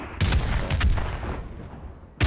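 A grenade explodes in the shooter game MWR, a sharp loud blast followed by further bursts and a rumbling tail, with another crack at the very end.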